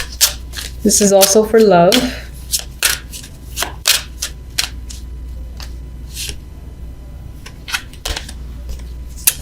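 Tarot oracle cards being shuffled by hand, a run of crisp riffling taps and flicks spread across the clip, close and moderately loud, with a brief spoken phrase near the start.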